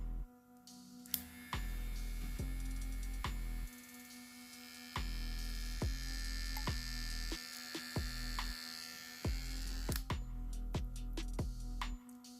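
Kemei 1943 home-use electric hair trimmer with a sharp blade fitted, running with a steady mains-like hum and buzz, switched on and off several times with clicks between runs, close and fairly quiet.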